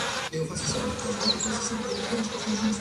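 Bees buzz steadily inside a beehive, a dense continuous drone with a low hum and shifting higher whines as insects pass close, constant and unbroken with no talk.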